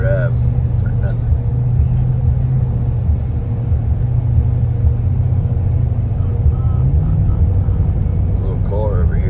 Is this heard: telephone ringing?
no